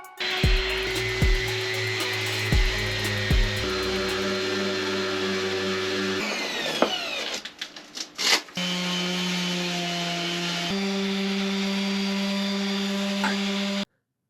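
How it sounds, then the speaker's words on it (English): Steady mechanical whirring and grinding of a power sander working a Mini 6.50 sailboat surface before lamination, continuous and close, with a brief break and shifting pitch midway. "I will continue taking off the other bracket and sand this down"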